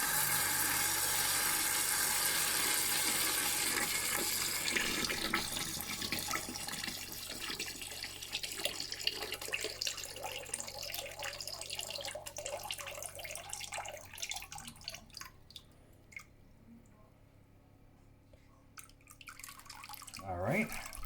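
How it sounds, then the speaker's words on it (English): Water runs steadily through the stages of an iSpring RCC7AK reverse osmosis filter system during a filter replacement, a loud broadband rush with dripping and trickling that thins out and quiets toward the end before rising again. "so what we've just did is we just ran water from stage 1, 2, and 3"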